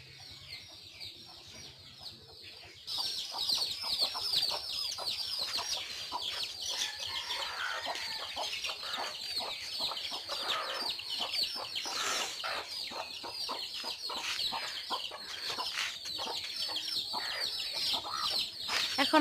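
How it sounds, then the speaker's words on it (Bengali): A rooster pecks and feeds in a gourd garden, clucking in steady repeated bursts close by over a continuous outdoor background. "অন্য বাড়ির একটি মোরগ এসে খাচ্ছে দিকে।"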